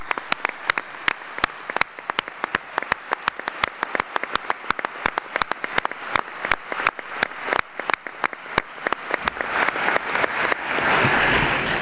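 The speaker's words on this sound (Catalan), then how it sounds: "per al que demana un fort aplaudiment" Audience applause for a local theatre group at a festival presentation ceremony, starting as scattered distinct claps and swelling into a dense, steady ovation that grows louder toward the end.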